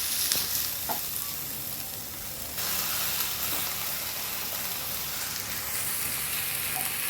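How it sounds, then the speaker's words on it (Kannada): Steady hissing sizzle of tomato and chilies roasting in a hot pan, with occasional stirring clinks, close and continuous, no talking. "ಆಮೇಲೆ ಒಂದು ಮಿನಿಮಮ್ ಸೈಜಿನಷ್ಟು ಟೊಮೊಟೊನ ಹಾಕಿ ಇದ್ರ ಜೊತೆಯಲ್ಲಿ ಸ್ವಲ್ಪ ಹುರ್ಕೋಬೇಕು"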